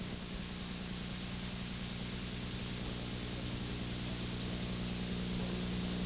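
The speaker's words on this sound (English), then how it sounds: "Now close both petcocks and open the main air valve" Air hisses steadily and loudly through the opened main air valve of a pressure gauge, a continuous broadband rush that holds unchanged from start to finish.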